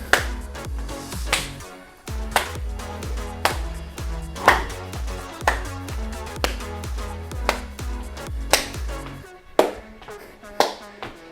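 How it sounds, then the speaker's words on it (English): Light low hand claps land at a steady rhythm during a home workout exercise, with a person talking between them. "You don't have to clap too hard. You just bring your hands together."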